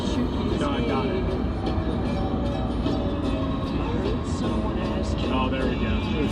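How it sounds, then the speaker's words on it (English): A train rumbles past somewhere in the distance, a steady low roar with faint metallic clatter that holds evenly throughout, heard near a road on the way to a diesel truck meet and campground, with voices at times over it. "There's a train back there."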